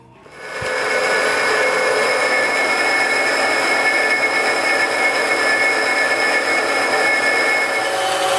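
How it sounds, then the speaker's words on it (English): A bandsaw starts up and runs at a loud steady whine while trimming a part into pieces, one continuous cut with no talking. "I'm going to be trimming this up into a few pieces using the bandsaw"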